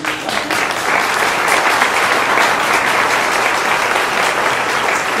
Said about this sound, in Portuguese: gostaria de pedir uma salva de palmas a todos esses galegos que fizeram o orgulho de sermos espanhol aqui no Estado